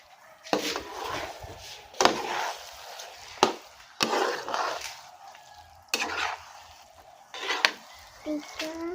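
Sticky rice biko being stirred in a pan, heard as repeated scraping, shuffling strokes in uneven bursts about every second or two, moderately close and fairly quiet.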